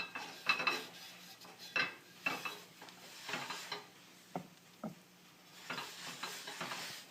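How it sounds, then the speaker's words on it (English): A Lodge cast iron skillet, warm from the stove, is wiped with shortening, giving soft intermittent rubbing and scraping strokes with faint light sizzling and a few small metallic clinks, quiet and close. "we're going to wipe a liberal amount of Crisco on the skillet"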